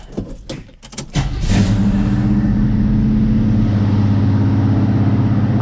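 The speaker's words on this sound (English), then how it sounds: "Not bad for a cold start." A 1971 Pontiac Ventura engine cranks over briefly on a cold start, then catches and settles into a loud, steady idle close by.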